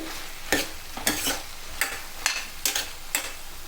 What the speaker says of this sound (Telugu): ఒక ఫైవ్ మినిట్స్ తర్వాత ఒకసారి మంచిగా కలుపుకొని